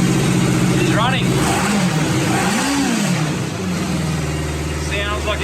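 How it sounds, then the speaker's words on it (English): A 1977 Kawasaki Z650 motorcycle engine runs loud and close, with a steady idle broken by a couple of rising and falling revs, while a person speaks over it. "Sounds like a Kawasaki."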